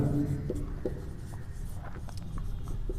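A formula being written by hand on a board or page, soft scratching and tapping strokes in an irregular rhythm over a low background hum, close and fairly quiet.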